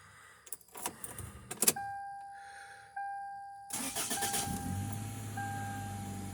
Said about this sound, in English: I'll start it up for you guys and let you hear it run.